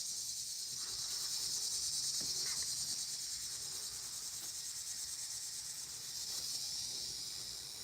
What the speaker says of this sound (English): Can you hear those insects?